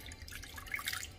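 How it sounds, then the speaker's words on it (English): A little water trickles and drips into a bowl of egg and Japanese mayonnaise dredge for potato croquettes, a faint, close splashing that rises briefly near the end. "I'm starting just with a little bit of water to mix things up"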